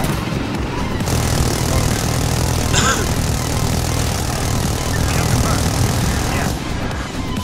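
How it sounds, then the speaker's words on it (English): Loud, steady helicopter rotor and engine drone in the video game Insurgency: Sandstorm fills the scene, with gunfire-like bursts and game effects layered over it. "that helicopter is gonna help."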